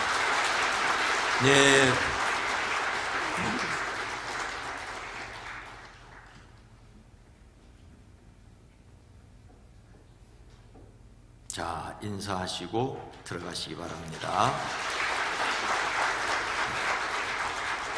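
A church congregation at a Sunday service in Bukisuwon Church applauds to welcome newly baptized members, a loud sustained burst of clapping that fades, then returns later with a spoken announcement over it.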